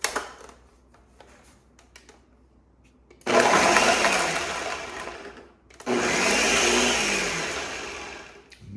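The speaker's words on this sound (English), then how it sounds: "we're going to take our garlic cloves whole and we're going to throw them right in our blender" A blender chops whole garlic cloves for restaurant-style salsa in two loud bursts of a few seconds each, the motor roaring up and then easing as the cloves break down, with quieter clatter and pauses before and between.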